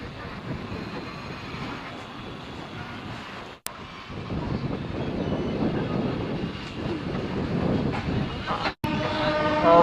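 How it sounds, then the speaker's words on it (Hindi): Rajya Rani Superfast Express pulling out of Patna Junction, a steady broad rumble of the moving train with wind noise and rattling, building slightly louder, with two brief dropouts and no talk. "फाइनली ट्रेन अपने निर्धारित समय अनुसार पटना जंक्शन से खुल चुकी है।"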